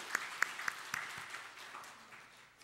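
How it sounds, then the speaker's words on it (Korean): A few scattered claps ring out from a church congregation during a Sunday service, then fade into a soft, sparse patter that dies away within a couple of seconds. "우리 하나님께 그리고 격려의 박수 다시 한번 하겠습니다"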